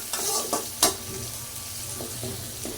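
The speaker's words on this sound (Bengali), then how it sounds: "এখন আমি জিরা দিয়ে পেঁয়াজ ভালো করে ভাইজা বাইটে নিব, আগে ভাজা হোক" Onions frying with cumin in a home kitchen pan, a steady close sizzle broken by a few louder stirring scrapes near the start and softer ones toward the end.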